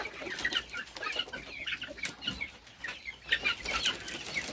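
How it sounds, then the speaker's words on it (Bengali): Chickens on a poultry farm in hot weather, distressed in the heat, cluck and squawk in a steady, crowded chorus that carries on throughout, fairly close, with no talking. "এই দেখেন এখানে মুরগিগুলো যদি দেখাই আমি"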